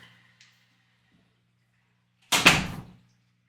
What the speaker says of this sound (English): The new Roombas are worse than the old Roombas, and now it's like banging into the door.